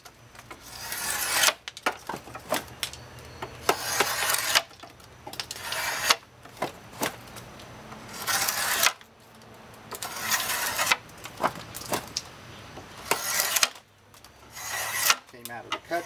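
Drawknife shaving wooden chair spindles: repeated rasping, scraping strokes of steel on wood, close and steady, with short breaks between pulls.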